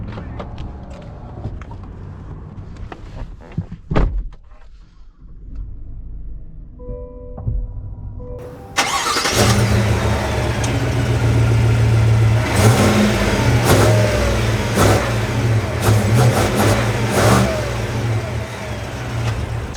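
A 2021 Cadillac Escalade engine turns over after some quiet interior clicks, then settles into a steady, loud running drone with occasional revs and a few mechanical knocks.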